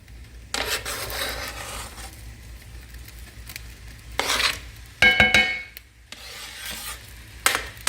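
Onion and ground beef are stirred and scraped in a pan for shepherd's pie, with intermittent rubbing strokes, a faint sizzle and a few metallic clinks of the utensil against the pan.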